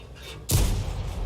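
Tank gun fire from an M18 Hellcat in a video game: a single loud, close boom that bursts in abruptly after quiet, followed by a heavy rumbling tail that lingers.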